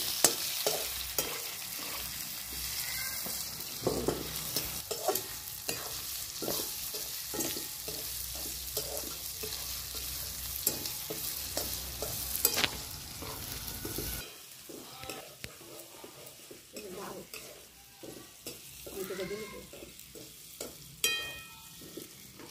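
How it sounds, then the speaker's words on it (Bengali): Onions fry in a pan for a Bengali duck curry, a constant sizzle broken by many scraping stirs of a spoon, louder in the first half and quieter later. "পেঁয়াজটা একটু লাল লাল করে ভেজে নেব।"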